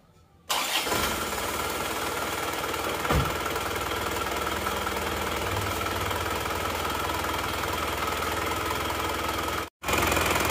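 An Isuzu Panther LS diesel engine fitted with a racing rotor head cranks and fires, then settles into a loud, steady, even idle close by, cutting out briefly near the end before resuming.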